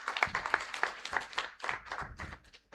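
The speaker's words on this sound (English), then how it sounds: "A round of applause, please." An audience in a university auditorium at a women's technical university orientation programme bursts into applause, with close, dense clapping that rises quickly and then thins and fades over a few seconds.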